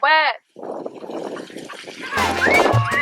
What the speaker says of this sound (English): The water's splashing in